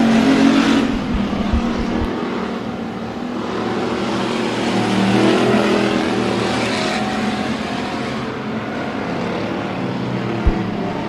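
Race cars roaring around the oval at Bakersfield Speedway during a close battle for the top three, a loud sustained engine drone that swells and fades slightly as the pack runs down the back straightaway, with crowd-level ambient noise.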